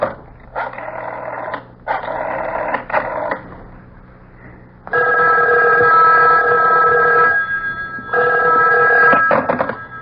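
A telephone bell rings in repeated bursts with short gaps, loud and close, used as a radio drama sound effect; a second, brighter ring pattern takes over partway through.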